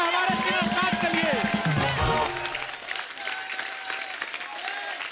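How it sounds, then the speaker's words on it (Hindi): Studio audience applause on a Hindi comedy talk show greets a guest, a dense wash of clapping over music and talk that fades after about two seconds into quieter background chatter. "जोरदार तालियां हमारे स्टार्ट के लिए।"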